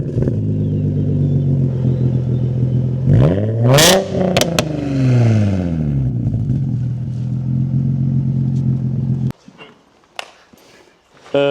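A Nissan 350Z's 3.5-litre VQ35DE engine starts with a brief burst, then revs up and falls back over a few seconds before settling into a steady, close idle that cuts off abruptly near the end.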